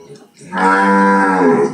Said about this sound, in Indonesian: Untuk suara sapi itu.